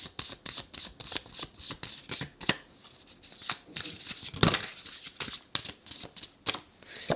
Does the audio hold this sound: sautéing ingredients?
no